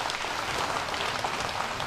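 A billiards match audience applauds and cheers, dense continuous clapping filling the hall, loud and steady with no commentary over it.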